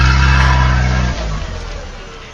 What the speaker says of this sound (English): The sound of the engine grew smaller and smaller until it was gone.